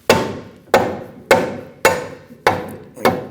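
A front control arm on a 2011-2015 Kia Sorento is tapped into place with about six evenly spaced, sharp metallic knocks, each ringing briefly, close and loud with no talk.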